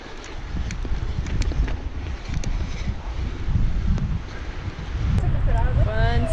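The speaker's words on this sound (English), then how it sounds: "Yeah, it's real windy. It's really windy." Strong gusting wind buffets the microphone at an outdoor enduro motorcycle race, a continuous loud rumbling roar with a faint whine near the end.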